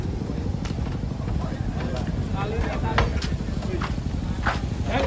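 Giant show cows step down from a truck at a crowded cattle contest, their hooves giving irregular clopping thuds over a steady low rumble, with people talking nearby throughout.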